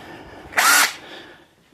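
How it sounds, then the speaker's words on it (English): A small power drill makes a pit in the center of a riding mower axle on a Simplicity Regent XL: one short, loud high-pitched whir lasting under half a second, close up, with no talk. "for that you will need a small drilling machine"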